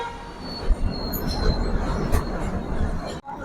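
The Shalimar–Vasco da Gama passenger train rolls along with a loud, close rumble of wheels on track, squealing metal tones and rattling carriages, ending in a sudden brief drop.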